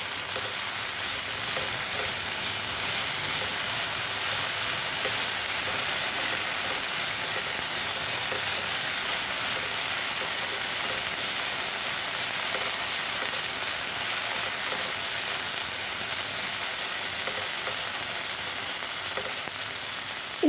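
Okra frying uncovered in a pan over low heat for a Kerala vendakka mezhukkupuratti, a steady, close, continuous sizzle that holds level throughout with no talk.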